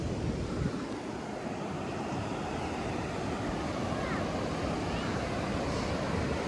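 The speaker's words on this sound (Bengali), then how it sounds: "অনেক বড় বড় ঢেউ আসছে" Large sea waves at Puri beach on the Bay of Bengal crash and roll in a continuous, loud, broadband roar, with wind buffeting the microphone throughout.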